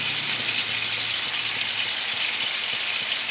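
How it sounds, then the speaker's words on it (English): Roast meat sears in a hot pan with a loud, dense, steady sizzle that holds evenly throughout, close up and with no voices. "We're not trying to cook the meat in here, it just singe the outside of the meat."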